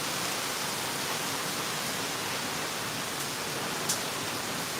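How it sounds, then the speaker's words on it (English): Steady, dense broadband hiss of heavy rain pouring down during a hurricane, constant and enveloping with no talk over it. "Just hear the rain."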